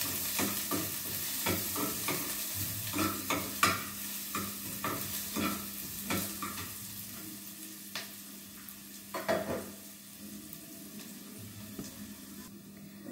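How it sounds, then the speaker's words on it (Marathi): Chopped onion sautés in a pan, frying with a steady close sizzle while a utensil stirs it in repeated scraping strokes, with no talking. "कांदा छान परतलेला आहे."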